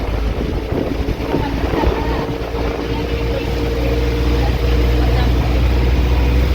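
Steady, loud wind rushing across the microphone, a constant low roar that builds slightly toward the end.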